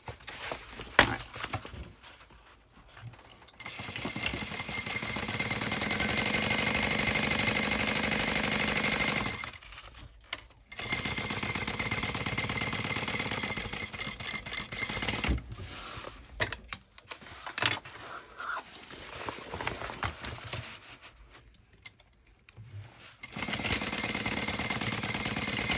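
A sewing machine stitching a vinyl tote bag runs in long rapid bursts of dense rattling, stopping briefly between seams.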